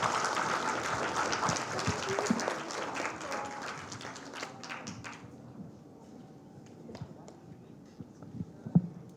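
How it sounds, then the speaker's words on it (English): Audience at a forum on China's actions in the South China Sea applauds admirals, a dense round of clapping that fades after about five seconds into scattered claps, light knocks and room noise. "Let's give them a round of applause,"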